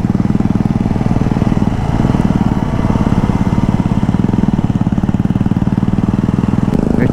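A Jawa 42 BS6 motorcycle, likely fitted with a modified silencer, thumps along at a steady, even rhythm while being ridden on light throttle, loud and close throughout.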